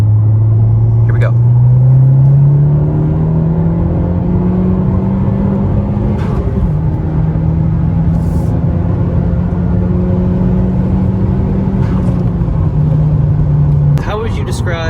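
Tuned 10th-generation Honda Civic on a TSP Stage 1 tune in sport map, pulling hard in third gear with a loud, steadily rising engine drone that climbs and holds for about fourteen seconds before a brief dip near the end.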